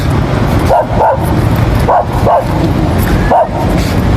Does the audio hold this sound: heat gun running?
no